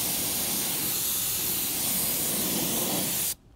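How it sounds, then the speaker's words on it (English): Tire dressing sprayed from a spray gun onto knobby tires gives a steady, loud, close hiss that holds evenly for about three seconds, then cuts off abruptly. "You can also spray in the wheel wells."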